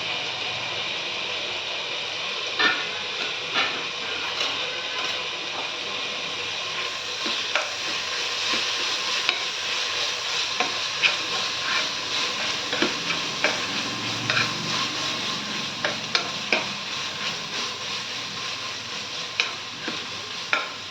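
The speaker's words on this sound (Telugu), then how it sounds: "పుదీనా కూడా ఆయిల్లో బాగా ఫ్రై అవ్వాలి." Mint leaves frying in oil for a chicken curry, a steady hissing sizzle over about twenty seconds with scattered small pops and utensil ticks, close up and with no talking.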